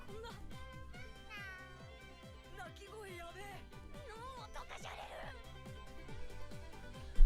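Cats meow in an anime preview, several rising and falling mews layered over steady rhythmic background music, with voices speaking at moments.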